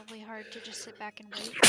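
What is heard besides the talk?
sneeze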